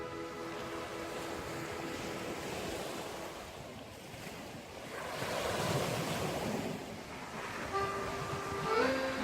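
Surf rolls onto a beach along a forest trail, a steady broadband wash with wind rumble, swelling louder near the end; faint tonal hums drift in the background.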